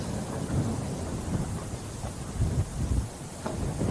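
Strong wind blowing outdoors along a scenic Alaska highway, a steady low buffeting roar with gusty surges, no voices.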